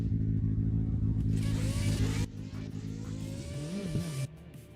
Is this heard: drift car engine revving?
yes